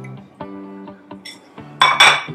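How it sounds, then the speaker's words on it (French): A pestle pounds African spices in a mortar, sounding as a series of separate ringing knocks and clinks, about seven strikes close by, the last two louder and sharper. "je vais utiliser mon pilon"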